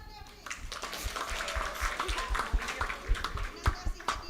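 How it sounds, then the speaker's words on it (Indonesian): A teenage Bible-study group claps for a girl named Beatrice, with scattered sharp claps throughout, mixed with chatter and light laughter in a small room. "Tepuk tangan buat Beatrice."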